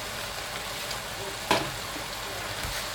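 Lamb mince and chickpea keema curry frying in a pan, a steady close sizzle as fresh coriander is stirred in, with a single brief clack of the spoon partway through.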